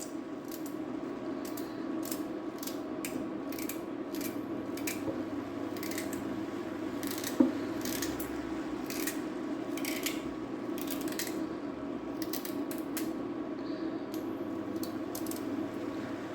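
Carrots being cut for a Chinese curry stew, a run of quick, crisp chopping clicks spread evenly through the whole stretch over a steady low kitchen hum, with one sharper knock partway through.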